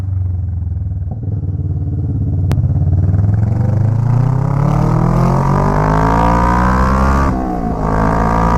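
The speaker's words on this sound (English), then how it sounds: "the exhaust is so loud" A loud Kawasaki Vulcan S 650cc motorcycle engine roars close by, its exhaust note rising steadily in pitch as it accelerates, briefly dipping before climbing again.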